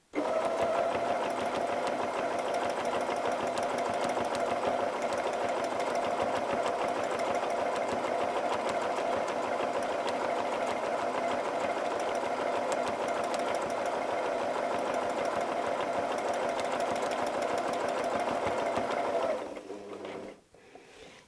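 A sewing machine does free-motion quilting of rose patterns, running steadily and loud at close range for about nineteen seconds before stopping abruptly.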